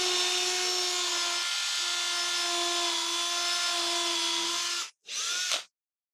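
A power drill with a Forstner bit whines steadily as it bores halfway into a 1x2 board, then stops briefly, spins again for a moment and cuts off.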